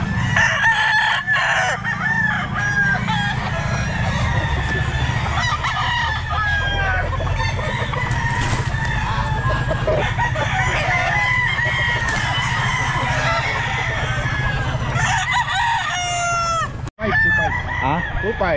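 At the Grotto pet market on a Sunday, roosters crow loudly and repeatedly, overlapping one another, while chickens cluck nearby and people chatter in the busy background.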